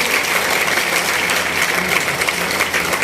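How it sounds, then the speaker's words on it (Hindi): A large business meeting crowd claps steadily for a few seconds, a dense, continuous wall of applause with no voices on top. "तो एक बार जोरदार तालियां बजाइए सभी डायमंड क्लब के लिए।"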